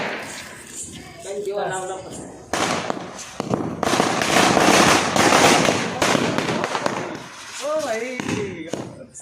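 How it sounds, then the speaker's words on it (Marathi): Firecrackers burst outdoors at home in a rapid series of loud cracks and bangs that crowd the middle of the clip, with people talking before and after the noise. "इथं आमचे फटाके वगैरे फोडून झाले"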